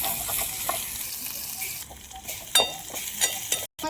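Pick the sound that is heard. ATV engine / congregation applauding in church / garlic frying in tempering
garlic frying in tempering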